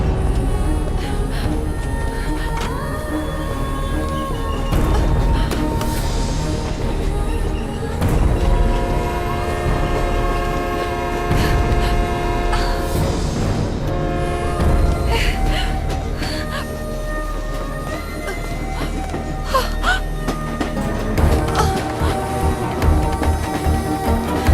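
A train rumbles past in a dubbed action film scene, a long steady roll of wheels and carriages with a loud horn blaring over it and dramatic background score and gasps mixed in.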